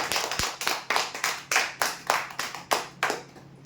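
Loud, rhythmic hand clapping from a crowd at a prize draw announcing a sofa set winner, with regular sharp bursts and no voices over it.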